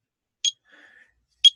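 A timer gives two short, sharp electronic beeps about a second apart, with a faint soft tone between them in an otherwise quiet room.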